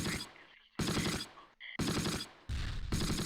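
Bursts of gunfire in the Close Combat wargame, set at Vire (Val De See), August 1944, with Axis forces engaging an M10 tank destroyer: four loud, dense volleys separated by brief near-silent gaps.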